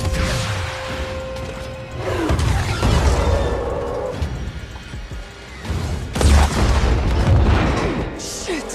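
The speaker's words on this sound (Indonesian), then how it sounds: "akhirnya jet itu meledak" A jet blows up in an action-film scene from Fast and Furious 9, with heavy booming blasts, crashing debris and loud bursts that swell at around two, three and six seconds over rumbling noise.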